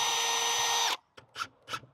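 A power drill drives screws for ladder-storage hooks into the studs behind a shed's cladding. It whines loudly and steadily for about a second, stops, then gives three short bursts close by.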